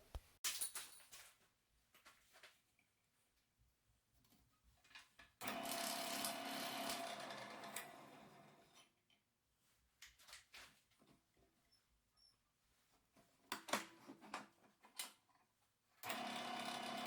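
Wood lathe hollowing the inside of a cherry burl vase, with bursts of cutting noise that start and stop, a long loud stretch near the middle, quieter gaps between, and a final burst at the end.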